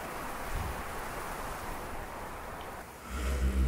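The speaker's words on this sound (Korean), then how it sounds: "바람 소리가 휙 하고 그냥 파도 물결 치는 소리처럼 들려요." Wind rushing through a dense forest, the Aokigahara (Jukai) woods in Japan, with a steady broad roar that swells like surf, surging louder near the end, with no voices.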